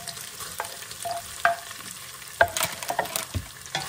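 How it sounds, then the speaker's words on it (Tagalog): Ground meat and luncheon meat frying in a pan, a continuous sizzle broken by scraping and stirring clatters from a utensil, close and fairly loud with no talking. "Maprito pa yung ating mga karne. Yung giniling at saka meatloaf."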